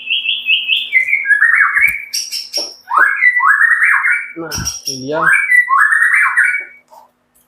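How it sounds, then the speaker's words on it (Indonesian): A tame white-rumped shama, a hand-tame murai batu, sings loud, close phrases of clear, slurred whistles that rise and fall, with sharp chirps between them. Someone speaks briefly partway through. "Ini salah satu murai batu jinak saya"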